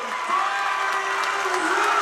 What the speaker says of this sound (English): That brings the crowd to its feet.